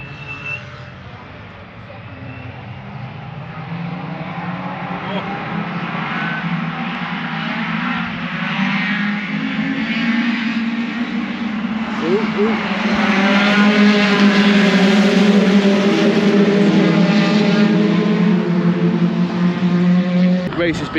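Racing pickup trucks at Pembrey Circuit in Wales build to a loud, sustained engine roar, with rising and falling revs as several vehicles pass close by.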